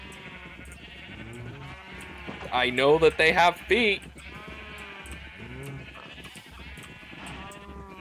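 Minecraft sheep bleating in a short burst of several loud, wavering cries in the middle, with someone talking before and after.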